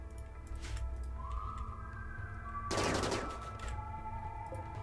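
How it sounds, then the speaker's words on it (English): A burst of gunfire in the colony game Rimworld, a short loud volley of shots near the middle with a tonal whine before and after, no talking. "let's go out and shoot someone and try to take them down without killing them"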